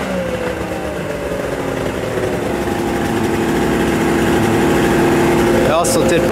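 A Yamaha SRX 700 snowmobile engine, recently carb-cleaned after sitting about a year, runs steadily up close with a low rumbling drone that grows slightly louder, ending with a brief high-pitched burst.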